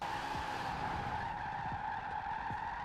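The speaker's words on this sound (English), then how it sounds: "I pulled that e-brake extension to slide wider out into the turn" Tires squeal and skid through a long e-brake drift in the Forza Horizon 4 racing game, a sustained screech with engine tone underneath, heard alone and fairly loud.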